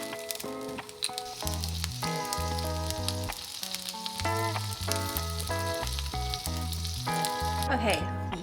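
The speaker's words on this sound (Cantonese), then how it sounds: "然後喺個鑊度煎一煎" Sliced turnip cake pan-frying in a wok, a soft steady sizzle running under prominent music with a low, rhythmic bass line throughout.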